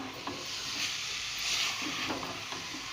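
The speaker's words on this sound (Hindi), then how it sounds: "इसको डालकर मैं बहुत अच्छी तरह से मिक्स कर दूँगी हलवे के अंदर।" Carrot halwa is stirred and mixed in a pan, giving a soft steady sizzling hiss broken by a few light scrapes, close and fairly quiet.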